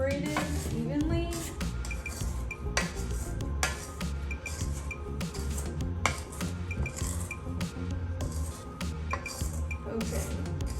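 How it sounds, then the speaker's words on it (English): A spatula scrapes down the sides of a bowl of cranberry pecan cookie dough, with repeated clinks and scraping strokes against the bowl in a steady, fairly loud rhythm. "I'm gonna scrape down the sides of the bowl so that everything is incorporated evenly"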